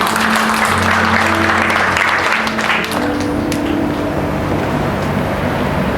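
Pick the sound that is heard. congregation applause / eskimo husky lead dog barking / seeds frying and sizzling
congregation applause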